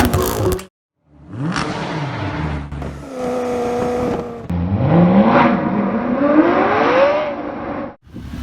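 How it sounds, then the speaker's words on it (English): A Porsche 911 Carrera S engine revs through its stock exhaust in several separate bursts, each rise and fall of pitch loud and close, with brief gaps of silence between them. "this Porsche 911 Carrera S, which right now is sounding fairly depressed"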